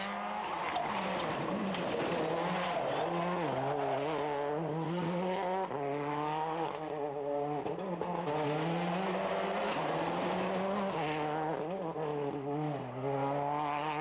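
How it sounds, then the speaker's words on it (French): A Ford WRC rally car accelerates hard along a rally stage, its engine note climbing and dropping through repeated gear changes, loud and close, with occasional tyre noise and no talk. "Après 5 km, François accélère"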